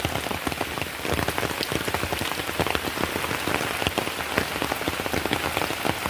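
Heavy rain falling during a flood, dense steady drumming of drops on surfaces, close and loud with no pauses.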